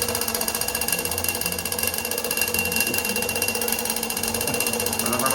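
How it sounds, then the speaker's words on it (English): A vintage Junghans alarm clock with two bells on top ringing nonstop, a rapid, even, metallic hammering of the bells that stays loud and close for the whole stretch. "Let's find out what a Nazi alarm sounds like."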